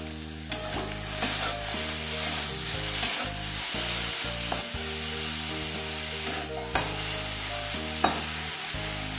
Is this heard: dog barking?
no